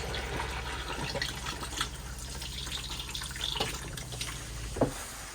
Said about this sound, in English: To flush your toilet, make sure you've got your water pump on and fresh water in the tank,